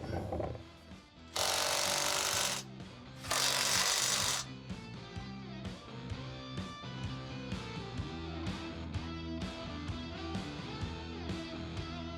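A ratchet tightens bolts on a rear bumper being installed on a 2025 truck. Two loud, broad, rasping bursts of a power ratchet are followed by a long run of quick rhythmic clicking and metallic knocks, close by with no voices.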